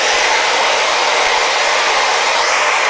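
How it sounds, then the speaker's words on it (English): A hair dryer blows steadily on a prosthetic pull-over mask, a loud, continuous broadband whoosh with no gaps and no voices. "So this is going to get dried with a hairdryer"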